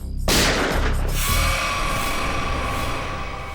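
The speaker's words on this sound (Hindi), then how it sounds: "गोली चली क्या?" A gunshot rings out in a Hindi TV crime drama, a sudden loud broadband blast followed by a dense, echoing rumble that lingers and slowly fades, with no voices.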